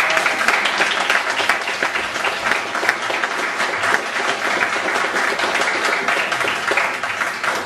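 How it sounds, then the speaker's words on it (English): Steady applause from a crowd, many hands clapping continuously at an even level throughout, with no voices standing out. "So please, a round of applause."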